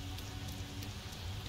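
Rain falls in the video game Sifu as a steady, soft, hissing patter. It stays quiet and continuous, with faint droplet ticks and no voices.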